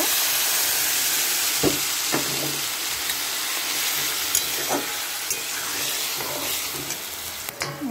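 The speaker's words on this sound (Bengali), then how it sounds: "এবার এতে একটুখানি জল দেব।" Water poured into a pan of mixed vegetable curry cooking on a gas stove, giving a loud continuous sizzle and hiss with a few clinks of a utensil, close up and without talk.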